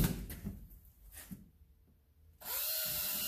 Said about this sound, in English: I'm doing this with a drill bit through this plastic